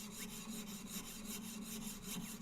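A jeweler's saw frame fitted with sandpaper smooths the inside of a sawn cut in a jewelry piece, making quick, even back-and-forth rasping strokes, close by and fairly quiet.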